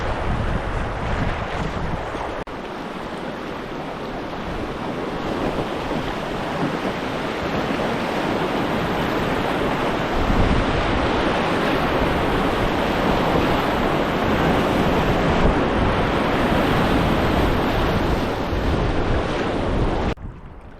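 Strong headwind buffets the microphone while a boat battles upriver on the Clarence River, a steady, loud roaring rush with choppy water underneath, broken by no voices and lasting throughout.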